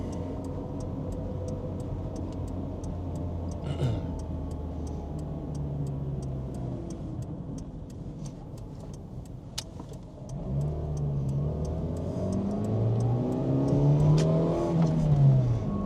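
A 1999 JDM Toyota Sprinter Corolla AE114 with a 5-speed manual and 4WD revs steadily, its engine note rising and falling through repeated climbs in pitch, loud and close with continuous road noise and no talk.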